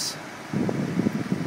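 Air conditioning fan in a 2004 Chevy Silverado blows a steady, close whoosh inside the cab, swelling louder about halfway through the short stretch.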